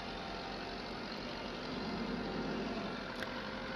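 A tractor engine chugs through its exhaust pipe in the Farming Simulator 22 video game, a steady, even idling drone that holds at a constant level throughout with no voices over it.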